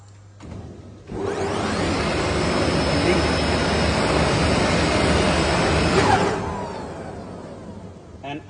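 Rieter RSB D35 textile draw frame with an automatic can changer, running in a mill. A steady, loud mechanical whirring roar starts abruptly, holds evenly for about five seconds, then winds down and fades.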